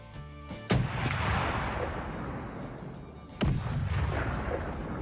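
.50 caliber rifle fired while hunting hogs: two sharp, loud shots about three seconds apart, each followed by a long rolling boom that echoes and decays across open ground.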